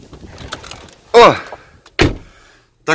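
A car door clunks and thuds as someone climbs into a vehicle with its windows left partly open, a few short knocks close by against a quiet background.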